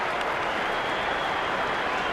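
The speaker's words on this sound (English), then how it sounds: "He applauds Tom Curran." A stadium crowd at a T20 cricket match between South Africa and England applauds in a dense, steady wash of clapping that stays loud and continuous throughout.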